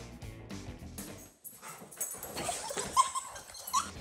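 Dogs at a dog park, with excited barks, yips and whimpers coming in irregular bursts against busy background noise, fairly close and lively.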